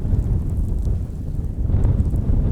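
Strong gusting wind roars across a frozen lake during a heavy snowstorm while ice fishing, a steady loud low rumble buffeting the microphone throughout with no voices.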